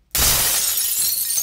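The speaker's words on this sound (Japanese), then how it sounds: "窓ガラスを割るよ。" Car window glass being smashed: one sudden sharp crash followed by a bright, sustained shattering hiss of breaking glass, close and loud.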